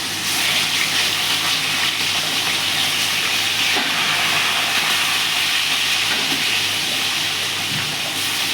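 Fish sizzling and frying in hot rice bran oil, a steady dense hiss and crackle that holds loud and unbroken throughout, with no talk over it.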